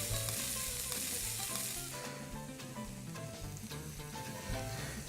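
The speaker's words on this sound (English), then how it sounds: "I'm going to put a little more butter into the pan just to finish it off." Mushroom steak frying in butter in a pan, with a steady, loud sizzle and crackle running throughout, plus occasional light clinks and stirring noises close by.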